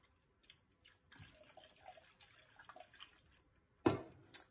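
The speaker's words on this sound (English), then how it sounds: "I'm just gonna give it a little slosh to mix everything all together." A small container of water with added essential oils and cleaner is given a quick slosh to mix, making a brief, close liquid splash and swirl after some quiet handling.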